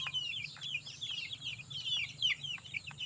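Several chickens cluck continuously at a moderate distance in a poultry setting, a soft, overlapping chatter with no talk.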